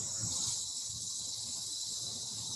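Cicadas and crickets keep up a steady, dense high-pitched drone outdoors, continuous and unbroken throughout, with no voices over it.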